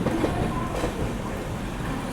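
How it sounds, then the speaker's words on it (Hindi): A departmental push-pull rake on the ghat section, with an ALCO locomotive leading and an EMD at the rear, rumbles past loud and close as a steady, continuous roar of rolling wheels. "ये वो डिपार्टमेंटल रेक है जो घाट सेक्शन में काम किया था। पुष्पुल है देखो पीछे EMD है, आगे एल्को लीड कर रहा है।"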